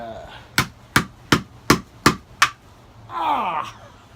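A chisel strikes into a wooden tree stump six times in an even rhythm, each hit a sharp, close knock. A brief voice follows the blows.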